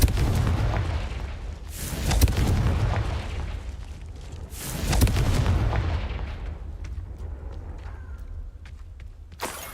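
Confringo spell blasts in the video game Hogwarts Legacy go off as several loud, booming explosions spaced a few seconds apart, each fading into a rumbling tail.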